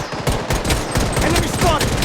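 A defensive turret in the shooter game Blood Strike fires a loud, unbroken stream of rapid automatic shots throughout, close and dense, with no pauses.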